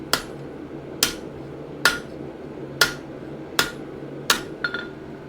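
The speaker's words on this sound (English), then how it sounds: "So that's why we're using really soft hammer blows." Six ringing hammer blows on a hot gardening trowel blade being widened and shaped at the forge, soft and evenly spaced about a second apart, the last followed by a couple of lighter taps.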